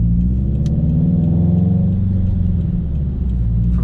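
A supercharged Subaru BRZ pulls hard at full throttle, loud and close, with a steady engine roar rising in pitch through the gear and no talk.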